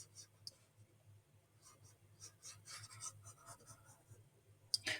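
A formula is written by hand on a board in a classroom, with quiet scratchy strokes in short irregular bursts over a low steady hum, ending in a sharper tap.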